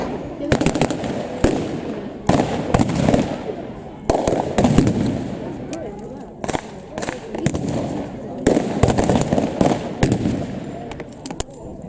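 Pyrotechnic blasts at a WWII battle reenactment display in Blaenavon go off repeatedly, loud sharp bangs and crackling bursts in irregular clusters, with people talking in the crowd between them.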